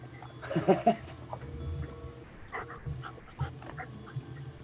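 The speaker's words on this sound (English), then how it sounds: "He's still a puppy." An 85-pound, year-old puppy pants close by in quick bursts, with a few whimpering yips at first and then rhythmic breathing that continues faintly under low room noise.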